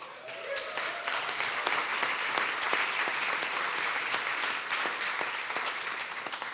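Applause from the audience at an awards ceremony, a dense, sustained wash of clapping that stays steady for several seconds, fairly distant and even, with no voices over it.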